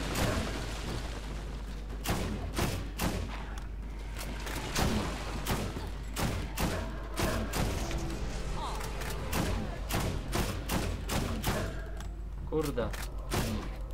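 Repeated sharp gunshots while shooting at an enemy in Borderlands, spaced single and double cracks over a steady low hum, with someone talking between them.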